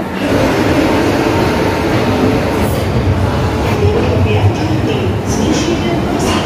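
Passenger train running from Delhi to Mathura, a steady loud rumble and rattle of the carriage with faint clicks, continuous throughout, heard from inside the coach.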